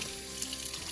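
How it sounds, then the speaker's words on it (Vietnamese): Tap water runs steadily into a kitchen sink while lobsters are washed under it, a continuous close splashing hiss with no talk. "Rửa mấy con tôm hùm này."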